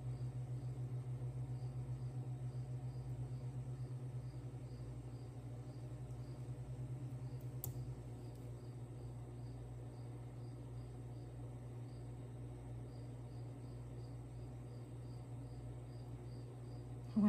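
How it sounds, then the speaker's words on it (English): Constant high crickets chirping in a steady, rapid pulse, moderately distant, over a low continuous hum. "I wonder if you all can hear my crickets."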